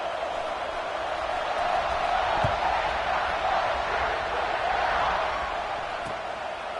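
Stadium crowd at a college football game between Iowa and Ohio State during a kickoff, a broad, steady roar of many voices filling the whole stretch at moderate distance.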